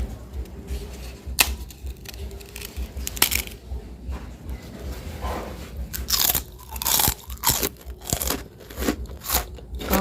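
Crispy rainbow pumpkin rice crackers, fried in palm oil, crunch and crackle in a rapid irregular series of sharp close snaps, growing denser and louder toward the end.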